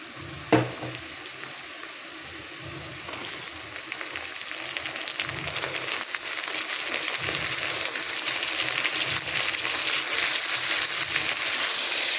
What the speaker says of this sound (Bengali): এবারে আমি মাছটা দিয়ে দেবো, লোটে মাছটা।